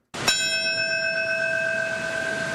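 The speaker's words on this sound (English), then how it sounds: "bells ringing the moment that day when the South Tower fell in New York City" A single church bell strikes once for the 9/11 memorial marking the fall of the South Tower in New York City, a loud clear clang that rings on with a long, shimmering sustained tone.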